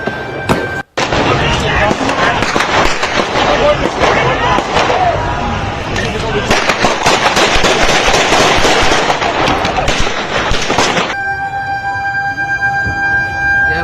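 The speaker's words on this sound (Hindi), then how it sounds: "वो इस वीडियो में आ रही गोलियों की आवाज को सुनकर अंदाजा लगाया जा सकता है" Gunfire crackles through a street protest, a dense, loud barrage of sharp overlapping reports and crowd noise that continues for about ten seconds before giving way to a steadier hum with a high tone.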